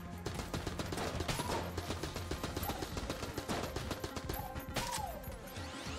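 Rapid automatic AK rifle fire from the video game Enter the Gungeon, dense bursts of shots running continuously with game effects and music layered underneath.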